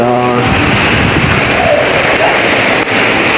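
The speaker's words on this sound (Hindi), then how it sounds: "बहुत तेज़ बारिश हो रही है यार" Heavy rain pours outside in a steady, dense hiss, with a brief voice at the start and the wash of falling water filling the rest.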